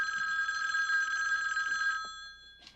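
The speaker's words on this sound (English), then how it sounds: "Mike, there's a call for you" A telephone bell rings steadily for about two seconds, then stops, followed by a brief faint chirp near the end.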